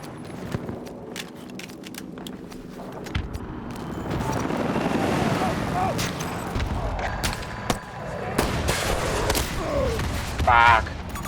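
Sniper gunfire in a shooting video game sounds as sharp, brief cracks scattered among the dense rumble and clatter of a game battle, with a louder burst near the end.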